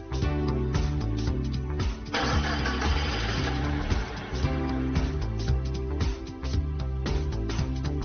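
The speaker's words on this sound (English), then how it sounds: "insert the key into the key switch and start the engine." A forklift engine starts with a key: a cranking, stuttering catch, then a loud, close mid-pitched motor settling into a rough idle with rhythmic pulsing, no talk.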